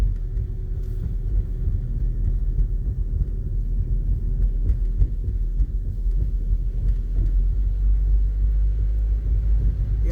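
Car driving slowly through blizzard snow in Iowa City, a steady low rumble of engine and road noise filling the cabin, continuous and even with no talking.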